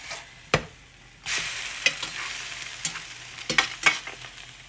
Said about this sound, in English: this one's about ready to turn, so I'll just flip it over and let it cook on the other side